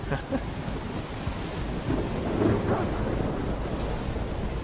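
Thunderstorm in the video game Stalker 2 at Zaton, a heavy continuous roar of rain and wind with low rolling thunder swelling midway, loud and enveloping with no voices.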